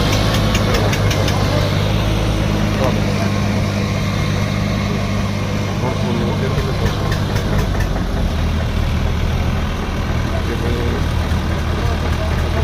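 A steady, low engine rumble runs throughout, loud and close, with a rough knocking idle quality and faint ticking above it.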